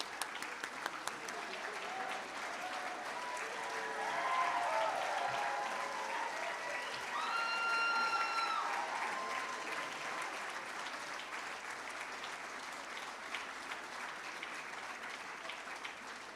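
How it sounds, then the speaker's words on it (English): Applause rises from the audience at a medical school white coat ceremony, a dense, moderately quiet wash of clapping. It swells twice, with a few whoops cutting briefly above it, then settles back. "Let's give them another round of applause."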